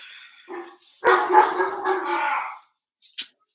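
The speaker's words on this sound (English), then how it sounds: "The dogs." Dogs bark indoors in a burst of several loud, overlapping barks and yips lasting a couple of seconds, followed by one short final yelp.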